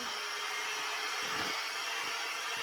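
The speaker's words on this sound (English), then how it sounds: "Luckily my mixer is not super loud." An electric mixer beats pumpkin cake batter with a constant whirring drone, close and fairly loud, and the pitch dips slightly as the beaters move through the bowl.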